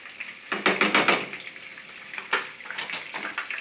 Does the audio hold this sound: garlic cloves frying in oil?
yes